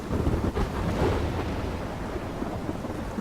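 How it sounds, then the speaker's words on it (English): A thunderstorm in the Life is Strange game, with a deep rumble of thunder over steady rain and wind, loud and continuous throughout. "I'm trapped in a storm?"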